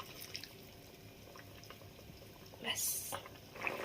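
Potato curry with flour-and-water thickened gravy bubbling in a pot, a faint soft gurgle with a few louder bursts of bubbling near the end, with a voice speaking over it.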